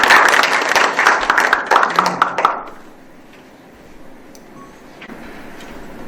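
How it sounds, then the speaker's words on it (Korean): A crowd applauds at a seminar on sports tourism in Boeun County. The clapping is loud and dense for under three seconds, then stops abruptly, leaving quiet room tone with a few faint clicks. "우리 큰 박수 부탁드리도록 하겠습니다."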